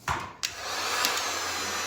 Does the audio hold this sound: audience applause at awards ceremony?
no